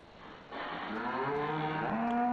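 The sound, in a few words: calves mooing in Farming Simulator 15 video game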